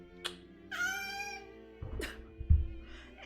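A small pet cat named Kimmy meows several times, with drawn-out harmonic mews close to the listener and a few soft thumps between calls.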